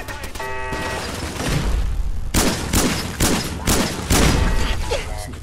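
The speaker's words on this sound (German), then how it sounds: "Ach, Virgil schießt dann auch auf uns." Rapid bursts of gunfire from a firefight in Fallout 4 come loud and close, with repeated sharp shots through the second half and a voice speaking over the start.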